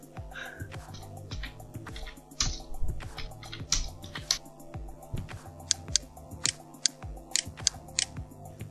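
Quick, irregular clicks of someone typing on a computer keyboard at a PC, close and fairly soft, over a faint steady tonal background.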